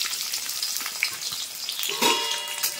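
Chopped onions sizzle steadily in white cooking oil for a village-style chicken dish, a continuous close crackle with a brief louder flare of spitting near the end.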